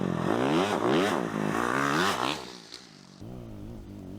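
Honda CRF450X and XR650R desert dirt bikes riding through whoops, engine revs rising and falling in repeated surges as the bikes pump over the bumps, then settling to a steadier lower drone.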